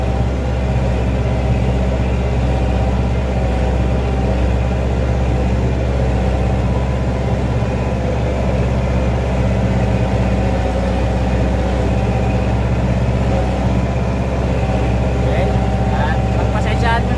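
A tractor engine drones steadily while plowing a rice field, heard from on board as a loud, constant low rumble, with someone talking over it.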